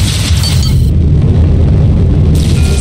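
A missile explosion booms loudly in the space combat game Rebel Galaxy Outlaw. A dense, sustained low rumble fills the whole clip, with a brief drop in high-end hiss midway, and no voices.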